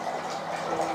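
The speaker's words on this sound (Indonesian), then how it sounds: "Kali ini saya pun bisa mendengar suara gemericik air di ruangan ini" Soft, continuous water trickling in a quiet room, a steady low gurgle with no talking over it.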